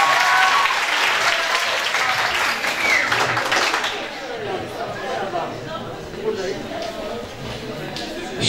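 Audience clapping in a crowded hall at a municipal seminar in Haymana, loud and dense at first, then thinning into scattered claps under murmuring chatter and talk toward the end.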